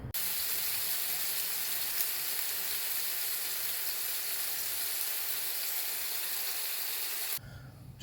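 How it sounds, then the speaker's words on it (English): Bacon and eggs sizzling in a pan at a campsite, a steady close broadband frying hiss that carries on evenly for about seven seconds before cutting off abruptly. "Just cooked up my bacon and eggs"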